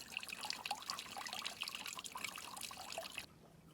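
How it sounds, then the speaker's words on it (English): Water trickling steadily at the water source of an off-grid cabin in the snowy Adirondacks, a continuous close splashing babble that cuts off abruptly near the end. "This is our water source."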